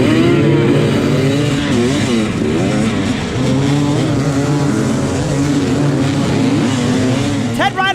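Hard enduro motorcycles revving loudly together at a race start line, a dense continuous engine roar with rising and falling pitch from many bikes, close and steady throughout, with talk mixed in.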